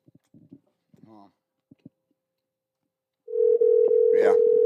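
Ringback tone of an outgoing telephone call: a steady, loud, continuous electronic tone that begins abruptly after a few seconds of brief voices and lasts to the end.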